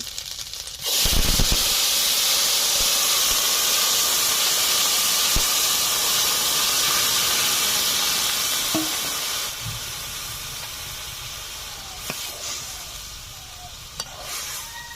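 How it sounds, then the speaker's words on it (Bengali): Fish broth poured into a hot pan of katla fish with lau shak, setting off a loud, steady sizzle and hiss of steam that starts abruptly and fades slowly, with a few faint clinks of stirring near the end. "এখন মাছের ঝোল দিয়ে দিচ্ছি।"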